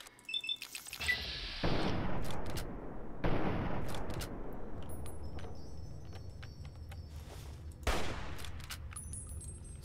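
Gunfire in Fallout New Vegas, played on hardcore in a cave, cracks out in a few sharp bursts with long reverberant decay between shots, moderately loud and without talk.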